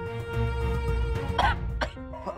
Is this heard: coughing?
yes